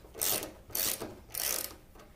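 Rapid clicking of a ratchet loosening bolts on a Victory Vegas motorcycle, in three short bursts at close range, quiet and with no voices.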